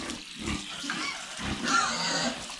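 Pigs on a hot farm in a pen grunt and snuffle in short irregular bursts close by, mixed with splashing water, no talking.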